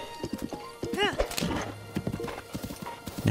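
Clopping hooves beat in a quick rhythm as a horse in Zelda: Breath of the Wild lets out a shrill, wavering neigh, with game sounds and a voice underneath.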